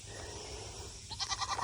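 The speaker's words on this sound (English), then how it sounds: "The most handsomest goat." A farm goat bleats in a few short, quavering cries near the end, after a stretch of quiet outdoor background hiss.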